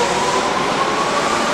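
A Tokyu 8500 series electric train passes close by, a loud steady roar of motors and rolling wheels filling the scene with a faint whine on top.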